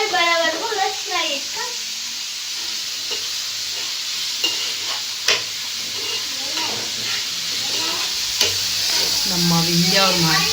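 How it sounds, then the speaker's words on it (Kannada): Onions frying in hot oil until coloured, a continuous close hiss and sizzle with occasional stirring taps, while people talk over it at the start and end. "ಆಯಿಲ್ ಹೀಟ್ ಆಗಿದ್ಯಾ? ಕಲರ್ ಬರೋವರೆಗೂ ಫ್ರೈ"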